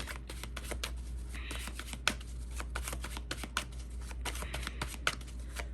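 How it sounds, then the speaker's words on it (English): A deck of playing cards being shuffled, with quick sharp riffling snaps and flicks repeating in close succession, near and clear against a low steady hum, no talking. "Oh, just shuffling so beautifully."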